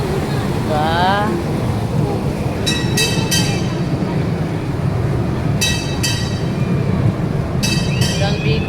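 A steady low rumble of a train rolling on rails, heard from inside a carriage, with faint metallic clinks recurring and people talking now and then over it.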